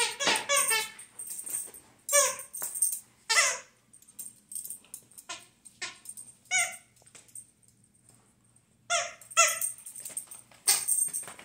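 A dog plays with its toy, giving repeated high squeaks and whimpering yelps in short bursts separated by pauses, close and fairly loud, with no voices.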